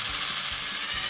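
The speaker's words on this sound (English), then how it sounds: "Drill all the way through, like so." A power drill bores straight through the end cap of a homemade fishing jug line, a steady broadband whir running unbroken for just over a second, close and fairly loud, with no talking.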